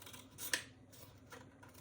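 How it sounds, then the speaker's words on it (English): Scissors trim material during a craft repurposing project, giving one crisp snip that stands out over faint background rustle, followed by a couple of softer cuts, close and quiet. "Always have your trusty scissors next to you when you're doing a project."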